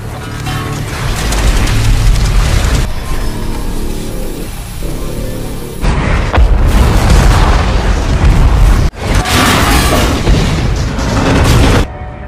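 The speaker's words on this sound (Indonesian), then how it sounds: "ledakan sangat besar muncul" A massive oil rig explosion roars and rumbles, followed by repeated heavy booms and sustained thunderous blasts, loud and close, from the Deepwater Horizon disaster film.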